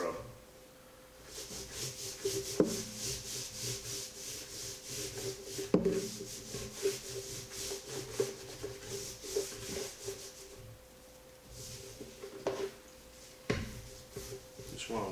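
Dry rub seasoning being rubbed by hand onto smoked-style pork ribs, a soft continuous scratchy rubbing that runs throughout with occasional light knocks and thumps, close up.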